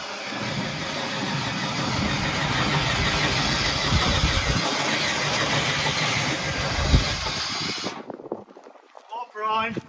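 A tank engine runs loud and rough at close range, rumbling steadily before cutting off abruptly near the end, leaving quieter background sound with faint voices.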